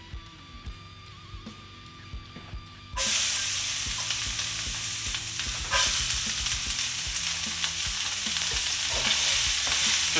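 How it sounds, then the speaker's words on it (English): Garlic, onions and carrots hit a hot skillet and start sizzling steadily, with stirring scrapes and clatters over a constant close frying hiss. "We just want to saute these for a few minutes before we actually mix them in with ground beef"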